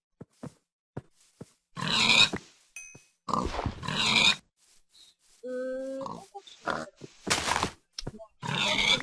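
Pig grunts in Minecraft: several rough, snorting grunts in short bursts, interspersed with quiet clicks and other game sounds, no speech.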